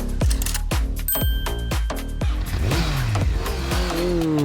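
A motorcycle engine revs and roars in quick rising bursts over upbeat game music, with chimes and clinks sprinkled in.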